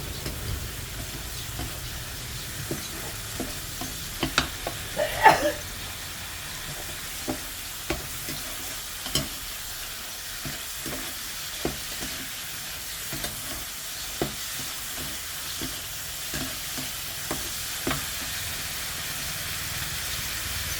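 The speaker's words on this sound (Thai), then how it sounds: "แล้วก็คั่วไป จนฝ่าจะแห้ง" Minced pork and pai leaves stir-fried in a pan until dry, a steady close sizzle and hiss broken by regular scraping clicks of the spatula, with no talking.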